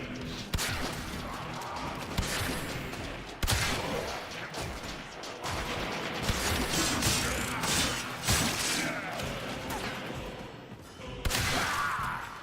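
Warframe gunfire crackles in sharp, dense bursts mixed with metallic clanks and impacts, loud and nearly continuous, with frequent sudden louder hits.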